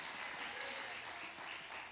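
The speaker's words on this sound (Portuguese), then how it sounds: "Pode aplaudir ao Senhor." A church congregation applauding during a worship service, a dense, even wash of clapping at low volume lasting a couple of seconds without a break.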